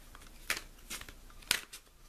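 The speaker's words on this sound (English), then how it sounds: "And as I shuffle, I look for cards to stick out." Quiet riffling of a tarot card deck being shuffled by hand, with a few sharper bursts of card flutter at irregular moments over a soft background.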